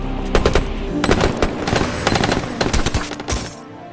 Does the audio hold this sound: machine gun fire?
yes